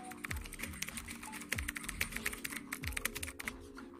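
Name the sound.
typing in text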